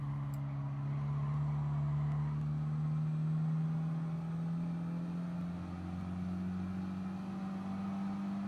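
Steady engine drone of a race car accelerating out of a corner on the Nürburgring Nordschleife in Gran Turismo Sport, a loud sustained tone rising gradually in pitch with no voices.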